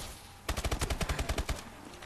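Automatic weapon fire in Call of Duty: Advanced Warfare, a rapid burst of about a dozen evenly spaced, punchy shots lasting about a second, loud and close.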